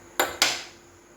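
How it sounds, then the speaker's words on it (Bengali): A metal wok set on a gas stove for frying chicken pakoras lands with two quick, close clanks that ring briefly and fade. "কড়াই বসিয়ে দিয়েছি।"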